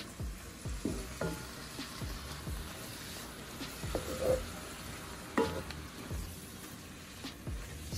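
Food sizzles and fries in a pan while being stirred, with repeated scraping and clanking of a utensil over a constant hiss; voices talk intermittently over the cooking.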